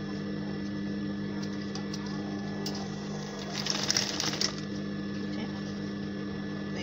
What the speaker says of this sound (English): go ahead and sew.